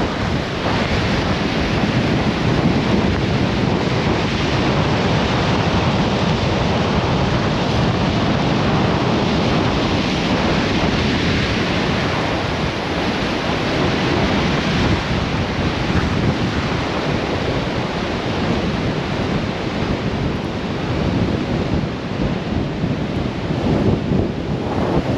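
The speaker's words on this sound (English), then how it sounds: "Here comes another surge of water heading up towards us now." Storm waves surge and crash along the Lake Erie shore, a loud, continuous roar of churning water and broadband surf with strong wind buffeting the microphone throughout, no voices.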